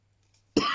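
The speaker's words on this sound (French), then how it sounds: "Désolée, je tousse encore un petit peu." A woman's single sharp cough bursts out close to the microphone after near silence, then a rough breathy tail trails off briefly.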